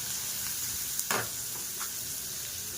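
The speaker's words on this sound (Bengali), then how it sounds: "তো এবার নাড়াচাড়া করবো।" Spices with salt, turmeric and cumin are stirred in hot oil in a pan, giving a continuous near sizzle with one or two brief scraping strokes of the spoon.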